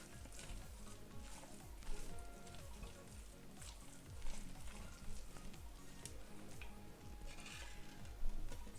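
Sweet potato pudding batter with coconut milk and flour is stirred in a bowl, producing soft, rhythmic sloshing and scraping strokes, fairly close and quiet, continuing steadily.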